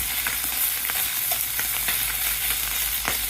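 Potatoes fry lightly in a pan with a steady, fairly loud sizzling hiss, broken now and then by faint clicks, with no voices over it.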